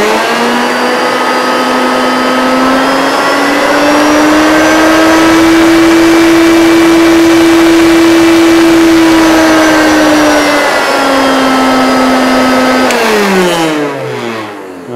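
A Hoover Turbomaster U5096 upright vacuum cleaner runs close up, its motor whine rising as the speed control is turned up, holding a steady high pitch, then falling away before the motor spins down near the end.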